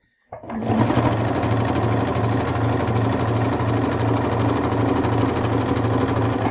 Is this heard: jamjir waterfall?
no